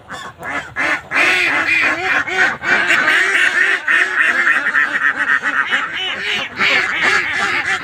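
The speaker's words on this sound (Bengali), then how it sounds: "এক জাক হাঁস কথা বলতেছে একসাথে।" A flock of ducks quacks together at dusk at a duck farm on a canal, dense overlapping calls in a steady, loud chorus throughout.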